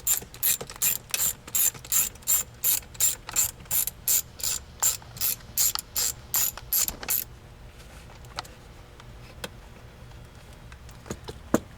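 Ratchet clicking in quick, steady bursts while bolts are turned on a C6 Corvette center console, about sixteen close, crisp strokes with short pauses, then stopping into quiet rustling with a few faint clicks.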